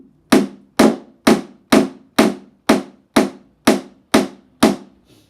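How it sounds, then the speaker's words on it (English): Ten sharp, evenly spaced hammer strikes drive tacks into the rim of a shield, each ringing blow decaying quickly before the next, steady and close with no talking. "And as you hammer the tack in, the lever will flatten out."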